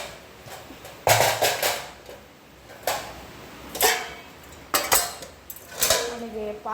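A cooking pot being pulled out from among stacked dishes and utensils for a river crab curry, giving several sharp metallic clanks and clatters in bursts. Some are close and loud, with quieter rattling between them.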